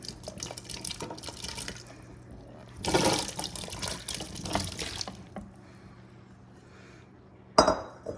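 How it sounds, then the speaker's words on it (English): Pickles dropped into a still-warm liquid pickling mixture for Christmas pickles, heard as wet splashes and drips with clinks of a spoon against a pot or jar, one louder splash early and a sharp clink near the end. "I'm going to then add my pickles to the mixture"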